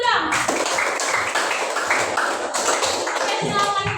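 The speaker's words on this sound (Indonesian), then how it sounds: "Tepuk tangan dulu dong." Schoolchildren in an Indonesian science classroom clap together in quick, regular rhythmic bursts, close and lively, with voices mixed in among the claps.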